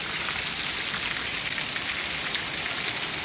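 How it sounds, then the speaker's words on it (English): Heavy monsoon-like rain pours down in a steady, dense roar, loud and continuous with no gaps, the broadband hiss of a sudden downpour drumming on surfaces nearby. "And just like that, we have a downpour."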